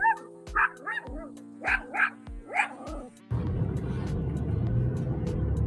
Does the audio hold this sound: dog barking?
yes